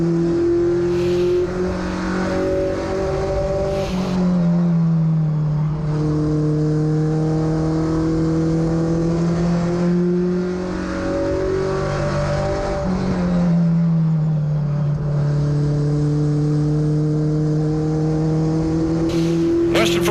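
Allison Legacy race cars circling Caraway Speedway, engines droning and revving continuously with pitch rising and falling as they pass, loud and sustained for the whole stretch.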